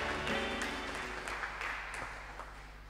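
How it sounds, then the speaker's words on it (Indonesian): A church congregation at a Sunday service claps for its elderly members, scattered individual claps over a low sustained hum, moderately loud and thinning out toward the end. "Boleh kita beri tepuk tangan untuk kaum lansia"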